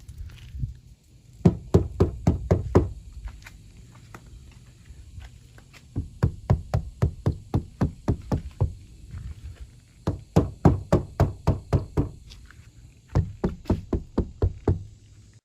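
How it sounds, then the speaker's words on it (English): Kilmat sound-deadening mat is pressed onto the inside of car door panels, giving rapid bursts of dull, hollow knocks and taps against sheet metal, several quick series separated by short pauses, fairly close. "So I started by applying the Kilmat inside all 4 of the door"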